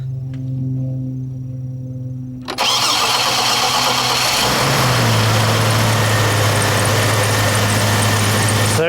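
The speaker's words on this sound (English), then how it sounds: "So now let's go ahead and start it up," A 2006 Chevrolet Trailblazer with a suspected fuel problem and hard-starting condition cranks briefly, then fires and settles into a loud, steady idle with a slight rise in engine pitch partway through.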